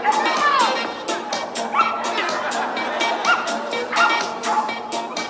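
A Jack Russell Terrier gives repeated excited yips and barks at a dog show jumping event, close and sharp, with crowd noise and talking in the background.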